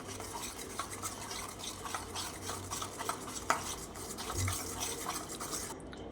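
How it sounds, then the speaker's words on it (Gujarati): Spoon stirring a homemade chocolate mixture of jaggery powder and butter in a bowl, a steady run of soft scraping and clinking strokes close up, with no talking. "હવે એને સરખી રીતે મિક્સ કરી લઈએ"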